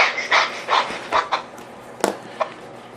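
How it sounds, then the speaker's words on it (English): Rapid, forceful breaths pushed from the chest during a meditation breathing exercise, a series of close, rhythmic huffing exhalations with short gaps between them. "start breathing quick and fast from the chest"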